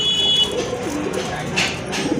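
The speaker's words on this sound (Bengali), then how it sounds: "চমৎকার এক জোড়া কবুতর" A pair of pigeons coos softly in a steady, low murmur, with faint background noise and no talking.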